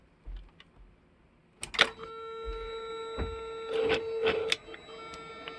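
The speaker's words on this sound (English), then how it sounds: "Now throttle is active." A Mercedes 500SL R129 throttle body is switched on during a bench test, giving a few sharp clicks and then a steady electronic whine with faint tonal buzzing, heard close and alone.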